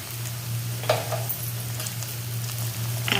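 Oily gravy sizzling steadily in a pan as pigeon peas, beans and other dried seeds go in, with a few soft clatters and stirring sounds up close and no voices.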